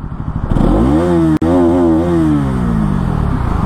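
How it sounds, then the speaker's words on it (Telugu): A Bajaj Pulsar NS 200 with its underbelly exhaust is blipped close up, the engine note climbing sharply, cutting off for an instant, then revving again and slowly settling back down, loud and alone. "సౌండ్ అయితే చూడండి మీరు. దీనికి అండర్ బెల్లీ ఎగ్జాస్ట్ ఉంటుంది NS 200లకి."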